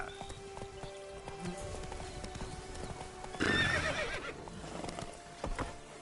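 A horse's hooves clip-clop in a steady gallop in The Witcher 3, then the horse gives a loud, close whinny partway through, with rain-like patter and game ambience behind.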